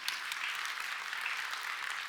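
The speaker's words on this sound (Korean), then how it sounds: "박수합시다." A church congregation claps together during a Sunday service, a steady, moderately distant patter of many hands lasting a couple of seconds without talk.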